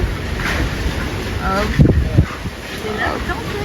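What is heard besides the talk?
strong wind blowing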